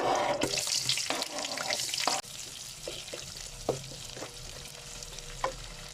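Sliced onions hit hot oil in a pan for a Pakistani potato-meat curry, giving a loud hissing sizzle at first that drops to a quieter crackle, with occasional clicks of stirring utensils.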